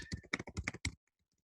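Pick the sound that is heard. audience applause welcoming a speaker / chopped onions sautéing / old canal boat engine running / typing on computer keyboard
typing on computer keyboard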